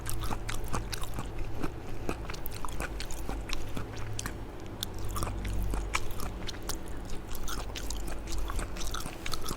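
Someone bites into and chews crunchy vegetable capcay made with young corn, close up, with a steady run of crisp crunches and wet chewing sounds for about ten seconds and no talk.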